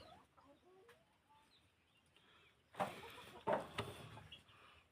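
Hens cluck softly at close range at first, then a few louder, sharper bursts of clucking follow, with faint background noise around them.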